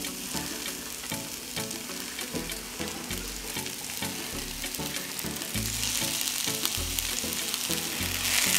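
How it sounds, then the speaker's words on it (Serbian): Spring onion fries in hot oil in a pan, a steady close sizzle with rhythmic clatter and scraping from stirring, growing louder toward the end, no voices. "Luk ću pržiti dok ne omekša."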